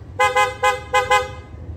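Five short, bright horn honks from a Kawasaki Ninja 400 motorcycle's newly installed horn, in quick succession, harmonic and fairly close, with brief gaps between them and low engine rumble underneath.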